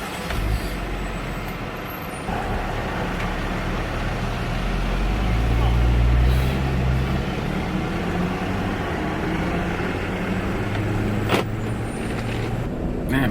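A car driving on the road makes a steady interior rumble with low engine drone and road noise that swells briefly midway, while a person talks over it.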